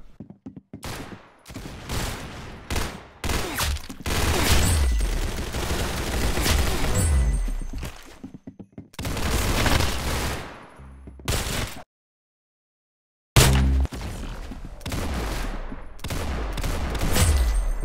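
Bursts of automatic gunfire in the Roblox shooter Arsenal, loud rapid volleys broken by short pauses and one full dropout of silence.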